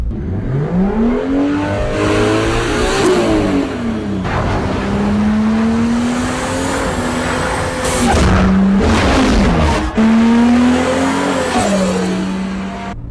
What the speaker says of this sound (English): the sound of the RX7, it just speaks to me